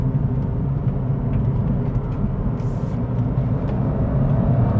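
From inside a 2019 Kia Picanto GT with a 1.0 turbo engine, a steady low engine and road rumble hums along at speed, with a constant whir of tyre and wind noise and no talking.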